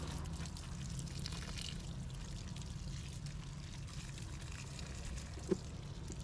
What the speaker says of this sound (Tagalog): Kailangan lagyan taga ng tubig.